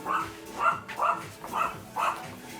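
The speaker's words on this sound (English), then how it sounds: "Bark, bark, bark, bark, bark." A dog barking indoors, five close, evenly spaced barks in a steady rhythm with no talk over them.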